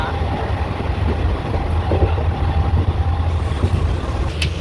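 A nearly empty passenger train bound for Malda runs with a loud, steady rumble and low rattling from inside the carriage, continuous throughout with no talk.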